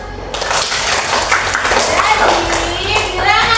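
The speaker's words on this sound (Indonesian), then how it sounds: "Tepuk tangan untuk kita semua." A classroom of children claps together during a maths lesson on integers, loud close clapping mixed with young voices chattering and calling out over it.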